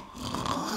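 A man imitates a snoring sound with his voice, a single short rasping snore-like breath that rises in loudness over under a second.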